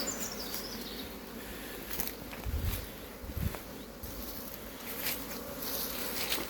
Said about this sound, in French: C'est vraiment des butineuses qui reviennent et qui partent, on les voit partir et revenir.